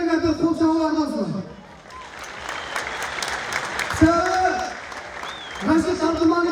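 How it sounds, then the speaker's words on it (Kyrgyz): Audience applause at a wrestling tournament, a sustained burst of clapping from a crowd beneath a loud amplified announcer's voice speaking before and after. "бир кол чабуулар болсун"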